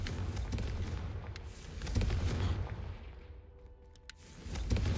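Confringo fire spell from Hogwarts Legacy, heard as a loud rumbling, crackling blast in a dense stream of low booms and sharp cracks that swells, eases, then returns over about five seconds.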